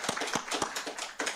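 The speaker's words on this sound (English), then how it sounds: "I want you to give her a round of applause" Brief, quiet clapping from an audience at a media awards launch event, roughly half a dozen separate claps at an uneven rhythm.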